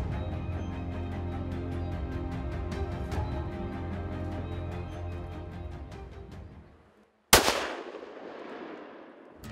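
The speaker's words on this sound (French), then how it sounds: "Puis j'ai tiré une shot, ça a tombé direct dans le cou" A single loud rifle shot fired while bear hunting cracks sharply and echoes away. Before it comes a steady, rhythmic mechanical pulsing drone.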